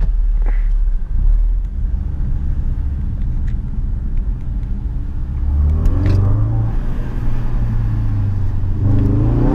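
Ford Focus RS 2017 with 350 horsepower, its engine rumbling loudly up close, settling to a steady idle then rising in a couple of revs toward the end, with no talking.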